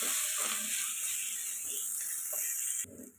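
Paneer with salt and biryani masala frying in a pan, a steady close hiss of sizzling oil with a few soft stirring scrapes, cutting off abruptly near the end.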